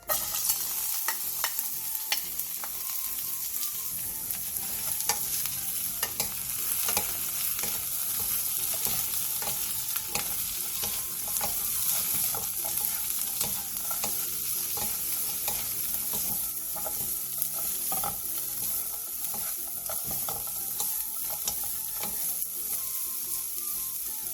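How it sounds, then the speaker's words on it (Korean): Burdock root stir-fries in perilla oil over medium heat, a continuous close sizzle broken by frequent scraping and stirring ticks from the utensil against the pan for the whole stretch. "팬에 들기름 2스푼과 우엉을 넣고 중불에서 약 2분 정도 가볍게 볶아내주세요."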